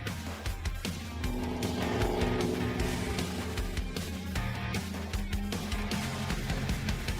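Race cars on a paved quarter-mile banked oval at a spring season opener, engines roaring loudly and continuously as a pack laps the track, with the drone shifting slightly as cars pass.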